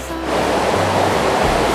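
A waterfall and stream beside a cafe seating area in Chiang Mai pour in a steady, loud, unbroken rush of water.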